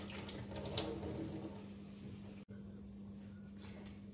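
Tap water running steadily into a sink while lentils are washed, a close, even splashing stream with a brief break partway through.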